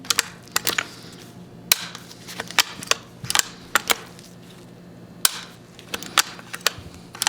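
A Model 5 bolt-action, magazine-fed repeating rifle in .310, in need of cleaning, gives off a run of sharp mechanical clicks and clacks at close range as its bolt and safety are worked, with short pauses between them.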